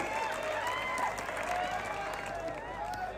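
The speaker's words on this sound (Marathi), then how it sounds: "टाळ्या करा, टाळ्या पुन्हा एकदा सगळ्यांनी" Crowd applauding at an outdoor kusti wrestling bout in Maharashtra, steady dense clapping from a large audience, with an announcer's voice and whistling tones over it.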